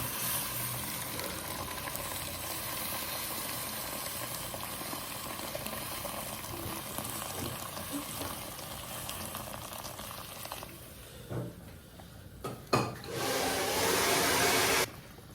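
Fried meat in a pot for Moroccan couscous, a loud steady sizzle and bubbling boil after hot water goes in, continuing for most of the clip, then a few clatters and a rushing burst near the end; no voices.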